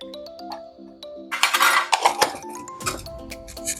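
Bone curry being stirred in a metal pot, with ringing clinks and scrapes of a spoon against the pot in a short close burst, alone without talk.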